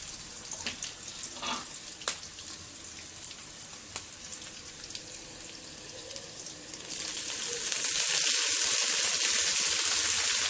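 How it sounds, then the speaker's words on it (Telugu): Chopped amaranth leaves go into water in a pan with fried onions and curry leaves. A steady crackling sizzle turns into a louder, continuous hiss partway through. "ఇప్పుడు మనం కట్ చేసుకున్న తోటకూర నీళ్ళలో వేసుకోవాలి"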